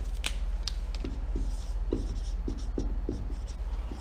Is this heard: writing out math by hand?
yes